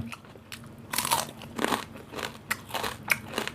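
Crispy deep-fried pork is bitten and chewed near the microphone, giving loud, repeated crunches and crackles in an uneven rhythm, with no talking.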